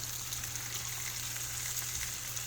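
Yellow squash frying in butter in a pan, a soft even sizzle held steady throughout over a low background hum, close and moderate in level, with no voices.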